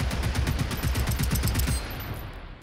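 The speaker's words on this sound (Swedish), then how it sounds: "jag har bränt hur mycket skott som helst" Rapid automatic gunfire in the video game Generation Zero, a fast burst of evenly spaced shots fired in quick succession that stops abruptly, followed by a fading tail.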